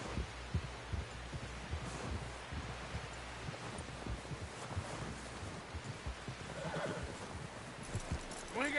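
A horse whinnies in the video game Red Dead Redemption 2 amid steady hoof clip-clop and a noisy, rumbling backdrop, the neigh standing out near the end.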